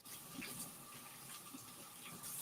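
Tap water running in a home kitchen during cookie baking, a faint steady splashing stream with no talk over it.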